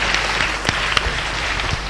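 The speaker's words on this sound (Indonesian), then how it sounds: "Tepuk tangan untuk penanya ya." Brief, steady applause from an audience at an environmental education talk, a dense wash of clapping heard alone without speech.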